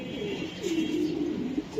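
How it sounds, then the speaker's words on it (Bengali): A racing pigeon coos softly nearby in a low, drawn-out rolling call, steady over a quiet background hum, with no one speaking. "এই যে আরেকটা কবুতর"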